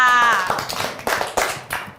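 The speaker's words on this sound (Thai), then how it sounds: "ปรบมือให้เพื่อนค่ะ" A short burst of classroom clapping for a student, scattered hand claps following a brief spoken phrase at the start, close and fairly loud.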